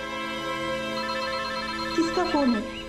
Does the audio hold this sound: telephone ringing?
yes